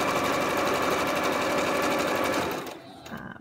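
A sewing machine stitches long fabric strips together into a tube, a loud, continuous fast whir of stitching close by that slows and stops near the end.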